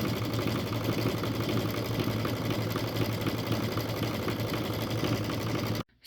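A sewing machine runs steadily as it stitches around a fabric bowl, giving a close, continuous mechanical hum and whir that stops abruptly at the end.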